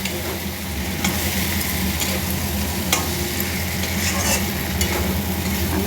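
Brinjal and boiled eggs being stirred with spices in a sizzling pan, a dense continuous frying hiss with soft spatula scrapes throughout, close and fairly loud.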